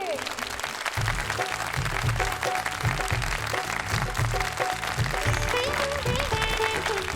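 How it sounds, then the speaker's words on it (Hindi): Loud applause for the judges at a club talent contest prize event, a steady wash of clapping that runs under music throughout. "तो जोरदार तालियां हो जाएं हमारे जजेस के लिए।"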